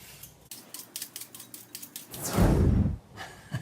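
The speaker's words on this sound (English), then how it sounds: "All right, so I've measured out my 4 pounds of ugly carrots. I'm going to peel them" Ugly carrots being peeled for roasting, giving a run of quick, close scraping strokes in a steady rhythm, swelling into one longer, louder rasp near the end, with no talk over it.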